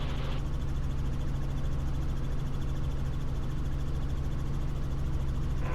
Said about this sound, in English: It's a Robinson 44 helicopter.